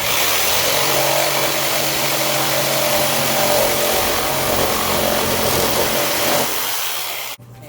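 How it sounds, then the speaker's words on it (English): A jigsaw cuts porch column lattice in one loud continuous buzzing run that holds steady for about seven seconds, then stops abruptly. "little saw here, jigsaw,"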